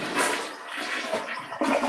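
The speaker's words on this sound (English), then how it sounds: "There you go. flush." A toilet flushes after being newly set and caulked during a plumbing repair, with a broadband rushing wash of water that swells, eases and surges again near the end, close by and without talk.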